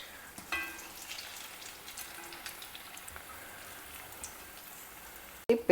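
Bonda dumplings frying in hot oil for Karnataka-style bonda soup, a steady close crackling sizzle with scattered pops and bubbling throughout, and a sharp clatter at the end.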